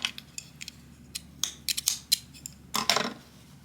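Scissors snip through crochet yarn at the end of a granny square, a few quiet, crisp metallic snips and creaks up close, spaced irregularly, with no voices.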